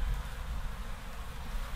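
An agitated honeybee buzzes loud and close during a spring hive inspection at an apiary, a continuous, steady drone with no speech over it.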